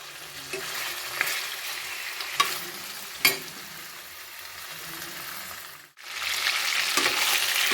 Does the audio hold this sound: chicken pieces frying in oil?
yes